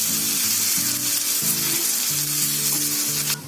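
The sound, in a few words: vegetable patty frying in oil in a pan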